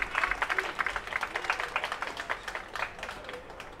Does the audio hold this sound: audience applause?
yes